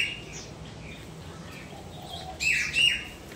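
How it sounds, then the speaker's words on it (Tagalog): Bright bird chirps in a couple of short bursts toward the end, clear and nearby over quiet ambient noise. "Ayan o, kumakain din na ibon."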